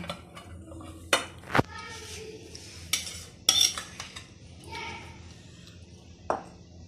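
Russian salad being served into a dish with cutlery, giving several sharp clinks and scrapes of a spoon against the dish, spaced irregularly and close by, with soft handling noise between them and no talk.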